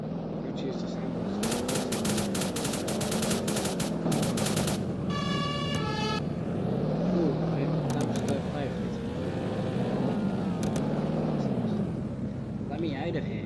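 Video game gunfire in Roblox, bursts of rapid shots that stand out around the middle of the stretch, mixed with constant game noise, a siren-like tone and ongoing talk.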